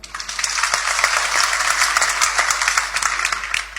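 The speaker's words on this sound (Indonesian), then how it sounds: "Beri tepuk tangan." A church congregation claps together during a sermon, a dense, steady wash of many hands that holds at an even level for several seconds with no voices over it.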